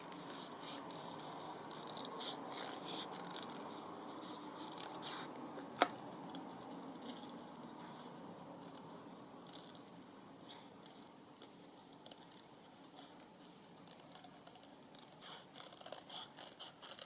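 Small scissors cutting out paper, faint repeated snips and soft papery scraping spread across a quiet room tone, with one sharp click partway through and no speech.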